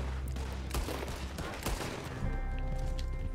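Rapid gunfire from Red Dead Redemption 2, a dense fusillade of overlapping loud shots over about three seconds, with sharp cracks standing out and a steady rumbling backdrop.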